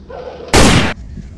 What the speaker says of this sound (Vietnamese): Tiếng pháo cầu cứu của Tân Paris.